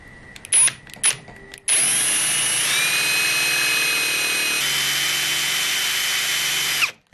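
A power drill boring tuner holes in a handmade guitar headstock: a few short bursts, then a long, loud, steady high whine that stops abruptly at the end.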